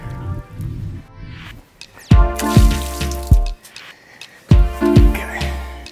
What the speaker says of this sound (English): Fill it up with just pure water.